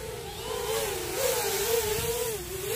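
Tyro99 budget RC car motor whining steadily at speed in an open field, a continuous high-pitched electric drone that wavers slightly in pitch as throttle shifts, close and loud with no voices.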